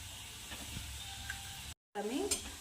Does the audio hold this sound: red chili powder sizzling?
yes